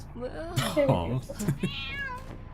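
A cat meows in the Identity V video game during a tournament match, a short wavering call rising near the end while a commentator talks over it.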